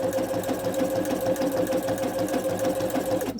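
Sewing machine stitching over dental floss to gather fabric, a fast, even mechanical chatter running steadily and close before stopping abruptly at the end.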